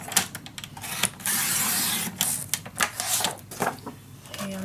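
Paper for a vintage-style winter mini album is cut at close range, a series of scraping, rasping strokes with one longer sustained slide and short sharp clicks, with no voice over it.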